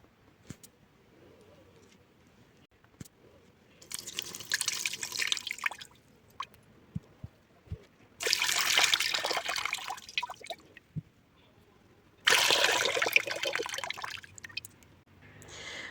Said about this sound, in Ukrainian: всю воду з кавунів зливаємо в каструлю.